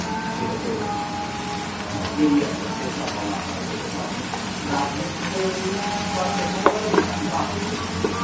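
Bitter gourd frying in a pan with lightly fried onion, a steady soft sizzle and hiss running throughout with occasional clinks of stirring, under a speaking voice.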